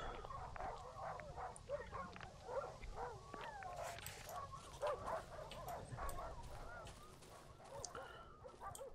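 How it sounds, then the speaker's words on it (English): Dogs in the horror survival video game Darkwood bark, yip and whimper in overlapping bursts at moderate volume, a restless canine chorus over a low ambient bed. "why are so many pregnant dogs here?"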